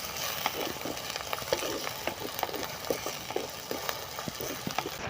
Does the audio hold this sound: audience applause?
no